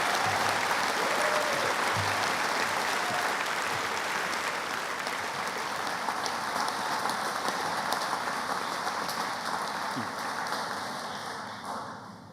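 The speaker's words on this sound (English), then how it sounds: "why don't you give a hand of applause to those" A large graduation audience applauds prize winners at a university ceremony, a steady, dense wash of clapping that fills the hall for about twelve seconds before tapering off at the end.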